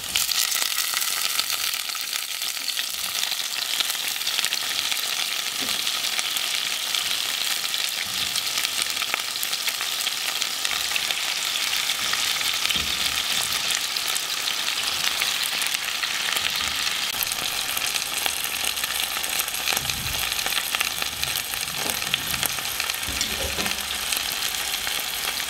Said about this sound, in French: Après avoir fait revenir légèrement les piments avec les oignons, je rajoute les cardons.